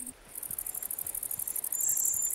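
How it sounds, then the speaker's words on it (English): Grasshoppers and crickets sing in a fast, steady pulsing chirp, high and bright, with a second insect trill joining near the end, close and fairly faint over a quiet background. "When grasshoppers and crickets are looking for love, they sing."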